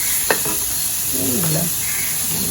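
Onions fry in a pan and are stirred, producing a close, steady sizzle broken by light scraping strokes and a sharp tap of the utensil, with no voices.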